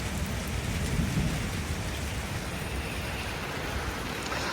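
Steady heavy rain pours at the India-Pakistan border in Tithwal, a dense, even hiss of drops hitting surfaces close by, with a faint low rumble early on and no talking.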